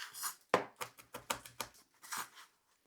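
A knife chops fresh chili on a cutting board, about eight crisp, close taps in an uneven rhythm, with no voices.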